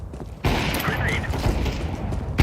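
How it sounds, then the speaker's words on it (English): Grenade exploding in a video game, a sudden loud blast followed by a dense rumbling roar with scattered bangs, close and heavy. "Grenade."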